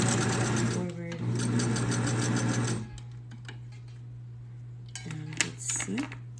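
A sewing machine stitches forward on a pink and gold tube top, whirring steadily for about three seconds. After a quiet pause it runs in shorter, clicking bursts.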